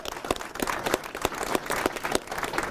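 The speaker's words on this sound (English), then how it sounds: "give yourselves a huge round of applause" An audience at a state outdoor recreation grant event breaks into steady applause, dense overlapping claps filling the room at moderate loudness with no talk over it.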